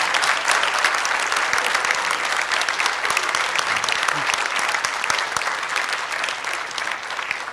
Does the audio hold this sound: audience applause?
yes